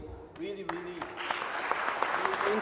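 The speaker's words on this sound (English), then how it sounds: "I really ask for an applause for all of you" A voice speaks briefly, then applause rises and continues, a group clapping steadily at moderate volume.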